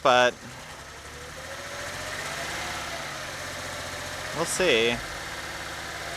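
An idling engine in a Z car, with some fuel injectors misfiring, holds a steady low hum that gradually evens out, while a voice speaks briefly at the start and again near the end.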